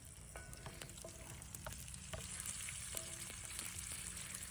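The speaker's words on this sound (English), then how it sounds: "listen to that sizzle." Steady crackling sizzle of bacon grease frying in a pan while cooking Civil War camp food, with scattered pops and spits over a continuous hiss, fairly close and alone without voices.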